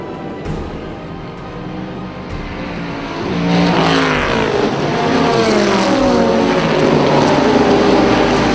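Exotic vintage race cars at Watkins Glen roar past, engines rising from a distant whine to a loud, close high-revving blare with shifting gear tones as the field goes by.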